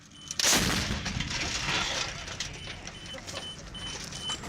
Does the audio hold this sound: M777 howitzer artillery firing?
yes